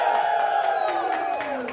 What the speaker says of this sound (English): Was it contestant number 2 gives a cheer?